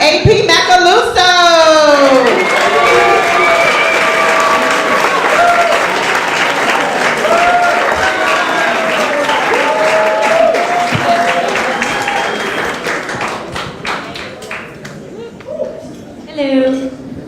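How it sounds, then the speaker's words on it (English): An audience at Gotham Comedy Club claps for a comic coming onstage: dense, sustained applause with a few whoops and cheers near the start, thinning out toward the end. "start clapping up for your next comic, AP Macaluso."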